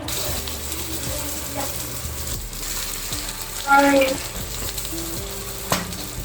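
Sweet corn cheese balls frying in hot oil in a pan, a steady close sizzle with occasional louder crackles and spatters, continuous and without talk.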